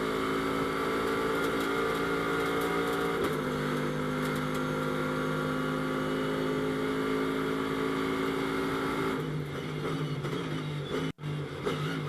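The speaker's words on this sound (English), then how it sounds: "down to low gear, wrestling that Ferrari up and over the curbs" A Ferrari GT race car in a Blancpain GT World Challenge America race at Las Vegas Motor Speedway drops to low gear and climbs over the curbs. Its engine drones loudly and steadily, with pitch shifts at the gear changes and a brief cut near the end.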